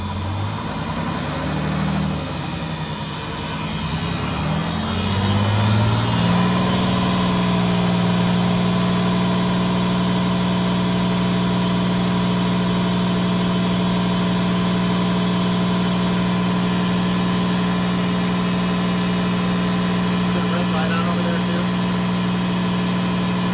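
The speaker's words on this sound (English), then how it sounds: "Go ahead and rev it up a little, get the build faster." Vintage fire truck with a Detroit Diesel two-stroke engine, loud and close, rising through a rough rev and then holding a steady, droning buzz. A voice talks briefly near the start.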